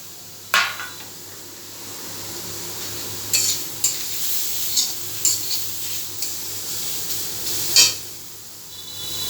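Chopped green chilli hits a hot pan with a faint low sizzle, followed by a series of sharp spatula scrapes and taps against the pan, spaced irregularly over a quiet frying hiss.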